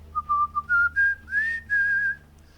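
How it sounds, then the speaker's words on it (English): A lone whistled tune from a character in the game Cataclysm: Dark Days Ahead, bright and clear, moving through a rising run of short and held notes with small gaps, over a faint low hum. "He's just whistling,"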